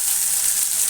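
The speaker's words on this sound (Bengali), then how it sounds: "এই যে খাসির মাংস কষছি এখন" Goat meat frying with spices in a pan, a brief, steady hiss of sizzling up close with no other sounds.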